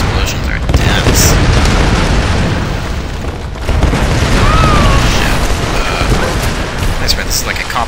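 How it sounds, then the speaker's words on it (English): Heavy explosions in the Tomb Raider video game, set in geothermal caverns: loud, booming blasts with a deep rumbling low end, one sharp burst near the start and another surge midway. "Man, those explosions are dense."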